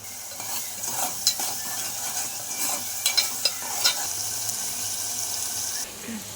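Onions fry in a pan for an aloo prawns curry, giving a continuous moderate sizzle up close. A spoon stirs and scrapes against the pan in a few sharp clinks.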